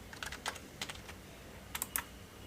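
Quick clusters of keystrokes on a computer keyboard, a few taps, a pause, then another short burst near the end, close and fairly faint with no talking.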